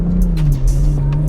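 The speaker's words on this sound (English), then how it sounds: "Nice engine note from this inline six." A BMW 840i Convertible's inline-six engine hums steadily from inside the cabin while cruising in automatic mode, a sustained low drone with faint road and wind noise over a short stretch.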